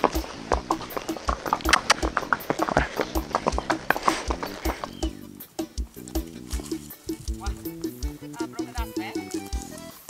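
Steady clip-clop of a mare's hooves walking on hard ground while led by a halter, close by, while a person speaks briefly over the rhythm.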